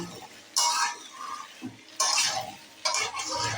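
Green peas stirred in a hot wok, with three scraping, sizzling bursts of stirring separated by short pauses.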